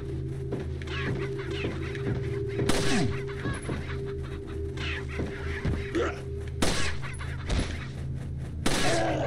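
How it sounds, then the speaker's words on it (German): Chickens clucking and squawking in the village of the video game Resident Evil 4, scattered calls over a steady low game ambience with occasional sharp bursts of noise. "Ihr kriegt euch mal ein, die komischen Hühner, ey."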